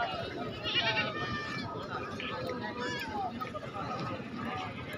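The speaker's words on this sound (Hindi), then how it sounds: "एक बच्चे की बकरी है" Goats bleat at a goat market amid the crowd's babble and nearby voices. Several short, wavering calls rise over the steady hubbub.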